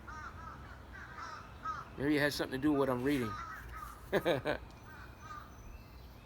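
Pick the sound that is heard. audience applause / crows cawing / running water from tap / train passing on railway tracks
crows cawing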